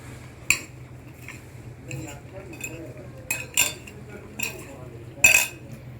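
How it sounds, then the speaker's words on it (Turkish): A spoon scrapes and clinks against a bowl while potato salad is stirred, giving several distinct metallic clinks spaced a second or so apart over quiet room tone, with speech in the background. "Patatesimizi de ekledik ve bu şekilde karıştırıyoruz"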